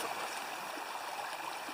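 Creek water flowing over rocks and bedrock in a wide, open canyon, a continuous, fairly soft rushing and gurgling wash with no voices.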